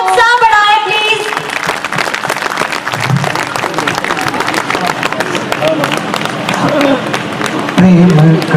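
An audience at a school annual function with a poetry recital claps loudly and steadily, a dense wash of applause that lasts throughout under crowd murmur, while a voice briefly speaks over it at the start.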